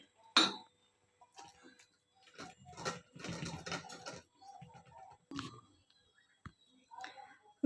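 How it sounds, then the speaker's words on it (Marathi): Cooked wheat grains for kheer are whisked in a pot, with irregular clinks and scraping bursts of utensil against metal, close and fairly quiet, with pauses between strokes. "तर आपण असं फेटून घेणार आहे जरासं"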